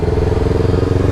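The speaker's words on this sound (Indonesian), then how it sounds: "anak zaman sekarang pada pakai Vespa Matic ya guys" Vespa Matic scooters pass along a busy road at school dismissal time, their engines making a loud, close, rattling drone that pulses rapidly.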